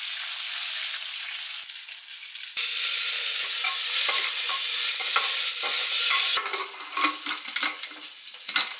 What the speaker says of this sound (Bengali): প্রথমে দেখো আমি রসুন ফোড়ন অ্যাড করেছি